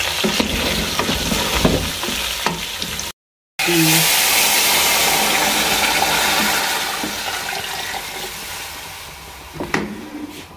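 Whole spices stirred into a pot of beef trotters being cooked Lahori style give off a loud, continuous sizzle and frying hiss, with scraping stirs. A brief cut of silence breaks it early on, and the hiss eases slowly toward the end.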